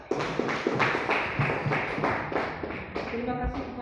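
A small classroom group claps after a presentation, a brief burst of scattered, uneven hand claps close by that thins out toward the end.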